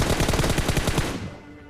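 Automatic weapon fire in the video game PUBG Mobile: a loud, rapid burst of about a dozen shots in quick rhythm, then cutting off into a fading tail.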